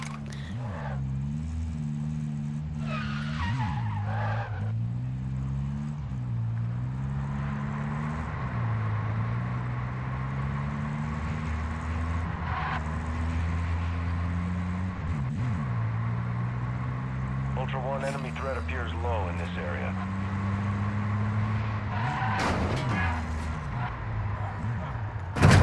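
A car driven in the DMZ video game, its engine droning steadily throughout with rising and falling revs, game effects and distant gunfire bursts layered in, with talking over much of it.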